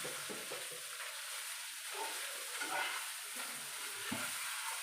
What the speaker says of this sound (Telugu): మా ఆయన కలిపే స్టైల్ చూడండి ఎలా కలుపుతున్నాడు